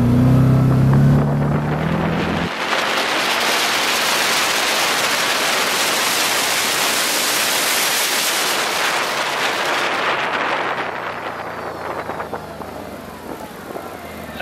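A 2016 Can-Am Maverick XXC 1000 side-by-side drives along with a loud, steady engine roar mixed with heavy wind rush, easing off slightly near the end.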